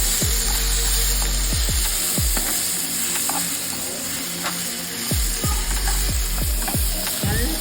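Chopped tomato sautéing in a hot pan for onion-coconut chutney, a loud continuous sizzle with repeated sharp scraping clacks of a spatula stirring at an uneven rhythm.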